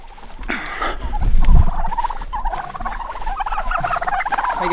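Several homestead turkeys gobble in repeated rippling bursts, loud and close, with a low rumbling thump partway through and no talking.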